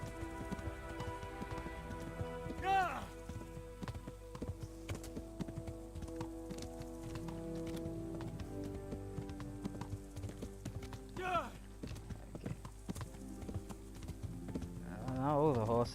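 During a race in the video game Kingdom Come: Deliverance, horses' hooves clatter in a steady clip-clop. Someone talks over the hoofbeats throughout, with brief vocal bursts rising above them.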